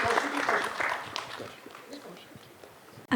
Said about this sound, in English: a big round of applause for everyone over here